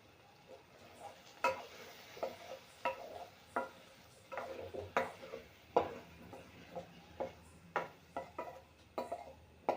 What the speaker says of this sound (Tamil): நம்ம ஊற்றிருக்க எண்ணெயில் இந்த சௌசௌ பொரியல் நல்லா வதங்கட்டும்.